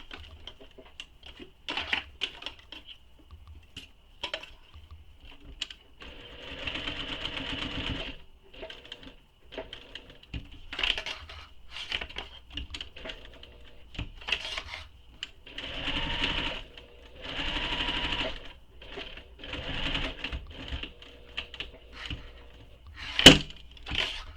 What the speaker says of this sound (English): So I'm going to stitch this together now.